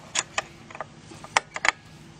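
Ratchet wrench, not a torque wrench, turning to snug a bolt on an IACV/EACV idle air control valve: about eight short separate clicking bursts in an uneven rhythm, close and clear with no talking.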